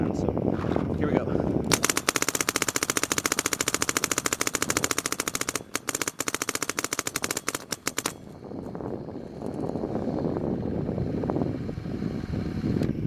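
An Empire Prophecy Z2 hopper feeds a paintball marker on uncapped semi-auto, firing a fast, steady burst of sharp shots for about six seconds, with talk before and after.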